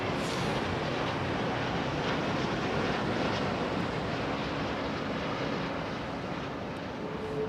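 Jet airliner arriving at London Heathrow Airport in the early morning, a steady, fairly loud broadband roar that holds for several seconds and eases slightly toward the end, with no voices over it.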